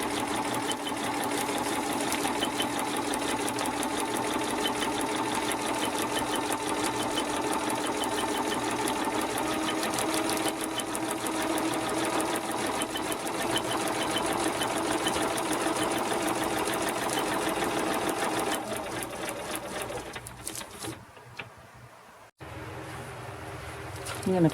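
A sewing machine runs in a long, steady, close whirring stitch across a half-square-triangle quilt piece, then slows and stops near the end.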